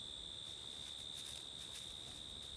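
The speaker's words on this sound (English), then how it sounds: "The crickets and other insects are singing." Crickets and other insects sing in a chestnut orchard in early autumn, a constant high shrill trill holding steady the whole time over faint outdoor ambience.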